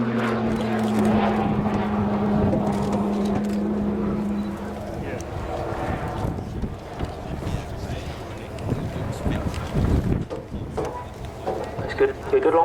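Shorts Tucano T1 turboprop of the Royal Air Force flying a hanging stall turn at an air show, a propeller drone that fades and shifts as the aircraft climbs, with a commentator talking over it and crowd noise.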